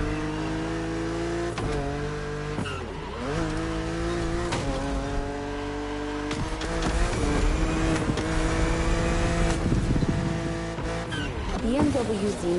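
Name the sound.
BMW Z roadster driving in a racing video game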